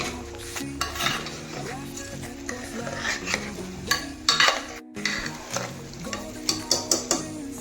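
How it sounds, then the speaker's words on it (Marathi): Rice for chicken pulao is stirred in a pot, a spoon scraping and clinking against the metal in repeated strokes over a soft sizzle, close and fairly loud, with sharper knocks near the end. "आता हे चांगलं मिक्स करून घेऊ."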